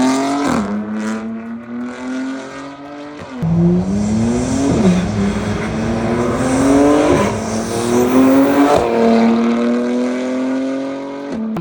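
A BMW G80 M3 with the S58 engine, catless downpipes, a single mid-pipe and stock axle-back exhaust revs hard through repeated gear changes, its loud rasping note climbing and dropping several times as it accelerates nearby.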